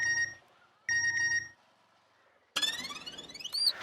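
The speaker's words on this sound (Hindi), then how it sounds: "फोन उठाइए" Phone ringtone in a Hindi TV comedy scene, two electronic ringing bursts with a pause between them, then a louder, brighter, sweeping tone near the end, with no speech.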